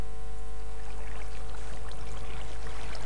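In the game Minecraft, water runs down a small waterfall as a steady, trickling rush over a constant low hum, close and unbroken.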